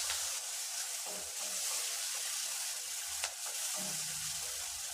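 Onions with curry leaves sizzle steadily in hot oil, a constant crackling hiss with occasional soft scrapes of stirring.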